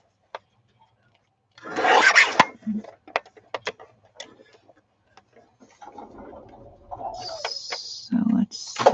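Wood being trimmed while building a journal, a burst of rasping cutting near the start followed by scattered knocks and scrapes, then a few sharper tool sounds toward the end, close up and without talk.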